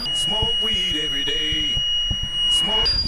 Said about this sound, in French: c'est officiel, j'ai déclenché une alarme